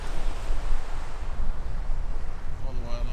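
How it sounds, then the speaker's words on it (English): Steady, gusty wind buffets the microphone at a beach near sand dunes in Bridport, Tasmania, with a broad roar of surf beneath it; a faint tonal whine enters near the end. "It's a little bit windy"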